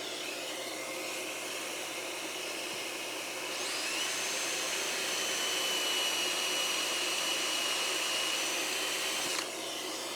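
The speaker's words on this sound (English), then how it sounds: "So let's turn the vacuum on." A vacuum cleaner runs steadily with a loud whirring drone, its pitch rising partway through and dropping near the end.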